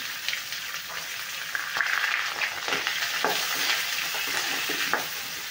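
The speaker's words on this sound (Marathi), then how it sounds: "लसूण टाकून झाल्यावर लगेच आपल्याला हे कांदा सुद्धा लगेच टाकून घ्यायचा आहे" Garlic and onion frying in oil for dhaba-style whole masoor dal, a continuous bright sizzle with occasional stirring clatter, close and unbroken, no voices.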